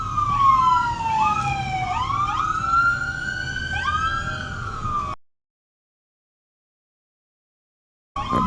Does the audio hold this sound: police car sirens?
yes